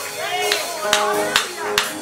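Church congregation clapping hands in time during worship, four sharp rhythmic claps about every 0.4 seconds under singing or a sustained voice.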